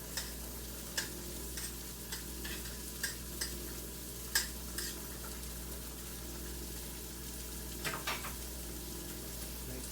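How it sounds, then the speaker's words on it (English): Pasta cooks in a pot on the stove while metal tweezers stir it, giving scattered soft clicks and taps over a steady low hum and bubbling, quiet and close without voices. "I do have tweezers. So let's just stir the pasta."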